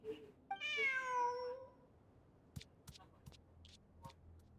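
A cat meows in the video game Genshin Impact: one clear, drawn-out meow near the start, followed by a few soft ticking clicks over a quiet, steady background.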